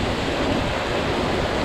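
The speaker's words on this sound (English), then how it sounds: "there's a waterfall right here that goes quite a ways down" A waterfall with a 150-foot drop at El Chiflador gives off a steady, dense roar that fills the whole clip without a break. No voices are heard over it.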